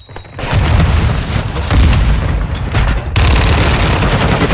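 Loud booming blasts and rapid gunfire in a Search and Destroy match of a shooting video game, with a grenade explosion and dense heavy firing continuing throughout.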